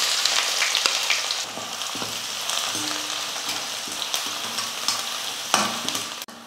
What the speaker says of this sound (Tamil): அந்த வெங்காயம் சேர்த்துக்கிறேன்